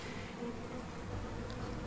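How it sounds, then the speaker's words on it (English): Angry honey bees from a colony in a freshly fallen tree fill the air with a dense, steady buzzing swarm drone, unbroken and fairly close throughout. "So quite a few bees in here. They were quite angry at this point."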